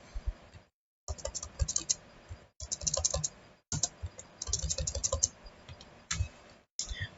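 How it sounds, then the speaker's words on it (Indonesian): Bursts of typing on a computer keyboard, rapid clustered clicks with short silent pauses between runs, close and clear with no voices. "Jadi kita langsung ketikkan saja."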